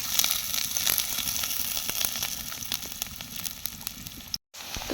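Onions frying in mustard oil in a pot while goat meat is cooked for a thin goat-fat and chicken khichuri, giving a steady, close crackling sizzle that runs almost without pause, with one brief dropout near the end.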